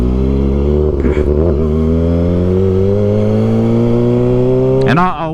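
A 2023 Kawasaki ZX-6R sport bike engine revs steadily upward and holds a high, loud whine during a wheelie, captured close up, then cuts off sharply near the end with a brief burst of wind noise.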